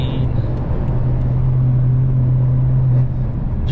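BMW F10 M5 with a new exhaust driving on the road, heard from inside the car as a loud, steady low engine drone and exhaust rumble with road noise throughout.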